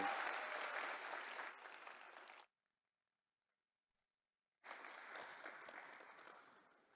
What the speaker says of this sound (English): let us give another round of applause to the new Wangari Maathai Forest champion, Miss Cecile